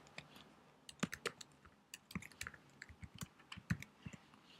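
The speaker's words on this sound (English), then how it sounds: "Let's just go ahead and type endergonic." Fingers type a word on a computer keyboard, irregular quiet clacks and taps close to the mic with no voice over them.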